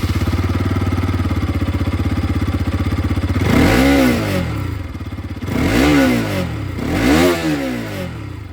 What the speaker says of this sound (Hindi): अब मैं आप लोगों को यहाँ पर जो RS 200 इसकी भी आवाज़ सुना दूं